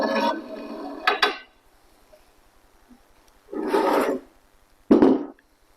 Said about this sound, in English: I'm going to slide this axle out.